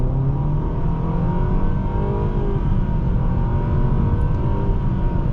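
A 2023 Nissan Sentra SR accelerates hard from inside the cabin, its engine a loud, steady drone with rising harmonic lines and a brief shift-like dip partway through, with no voices over it.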